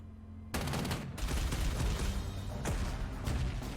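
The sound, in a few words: gunfire of pioneers attacking artillery in video game Panzer Corps 2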